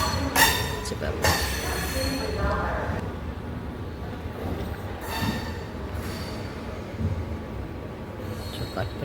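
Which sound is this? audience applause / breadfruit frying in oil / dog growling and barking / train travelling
train travelling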